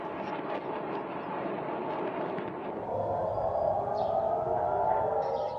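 Air raid sirens wail across Jerusalem in a steady, continuous drone with a sustained tonal rise toward the end, heard at a distance under a broad wash of city ambience.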